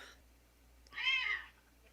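A cat meows once from inside a small shoebox, a single drawn-out, fairly loud cry standing alone against a quiet background.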